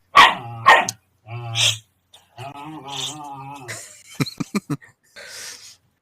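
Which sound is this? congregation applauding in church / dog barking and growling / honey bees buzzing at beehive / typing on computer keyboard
dog barking and growling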